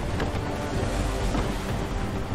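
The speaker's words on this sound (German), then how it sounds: "Diese Winde sind ja auch sehr windig hier." Steady broadband wind gusting over open sea in Assassin's Creed III, a constant full roar with low rumble and no distinct breaks, no voices.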